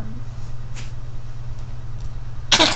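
After a quiet stretch with a low hum, a dog gives a short, sharp sneeze up close near the end.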